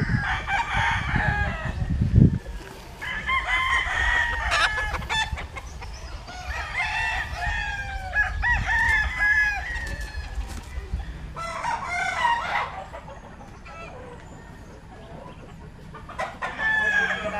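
Stag rooster at a gamefowl farm crowing repeatedly, with clucks and other fowl calls mixed in, close and clear, alongside some handling noise and faint background murmur.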